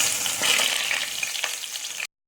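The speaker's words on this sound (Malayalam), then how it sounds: "നമ്മൾ ഒഴിച്ച എണ്ണ ചൂടായിട്ടുണ്ട്. ഇനി ഇതിലോട്ട് ആദ്യം കാണിച്ച മസാലയെല്ലാം ഇടണം." Whole spices, cardamom, cloves and small biryani leaves, frying in hot oil for a prawn pulao, giving a dense bright sizzle with crackling pops, close and steady before it cuts off abruptly.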